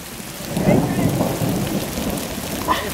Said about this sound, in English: It's fucking hailing, man.